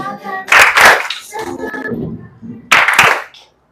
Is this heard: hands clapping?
yes